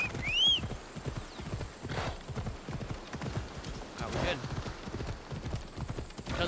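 Horse hooves clip-clop steadily in the video game Assassin's Creed Odyssey, a continuous rhythmic gait close by, with a brief whinny near the start and a soft ambient bed underneath.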